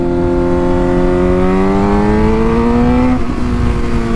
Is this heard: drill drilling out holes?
no